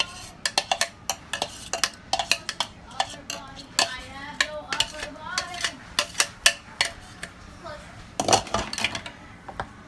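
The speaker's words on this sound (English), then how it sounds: "I'm gonna empty this into this bowl." Shrimp tipped into a bowl set off a rapid run of clinks, taps and clatters, some clustered and some spaced out, close by, while a person keeps talking.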